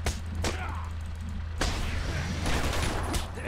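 Several loud gunshot bursts from the video game Batman: Arkham Asylum crack over a low constant rumble, spaced irregularly, with muffled action noise in between.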